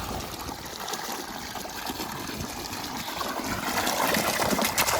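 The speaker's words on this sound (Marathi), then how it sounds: "त्याकरता बोरचं पाणी केलंय चालू" Borewell water runs steadily from a pipe, a continuous splashing gush close by with a faint outdoor hiss, growing slightly louder toward the end.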